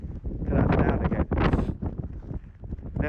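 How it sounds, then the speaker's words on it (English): Gusty wind buffets the microphone in loud, rumbling bursts with rustling from a Nemo Dragonfly 2 tent, continuous and close throughout, outdoors in England. "Now, it's windy, but it's not hugely windy for England."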